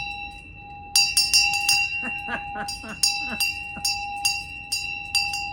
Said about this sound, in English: Now this one, that is a damn loud bell.